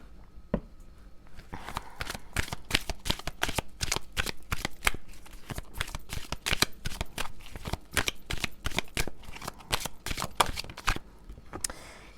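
A deck of tarot cards being shuffled in a card reading, steady rapid riffling and slapping of card stock close up, running continuously alone without talk.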